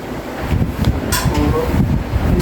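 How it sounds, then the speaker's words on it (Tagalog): Gusty wind in rainy, stormy low-pressure weather outside a house, a rough blustery rush with buffeting bursts that swell and fade over a couple of seconds, with no talk. "Tapos mahangin."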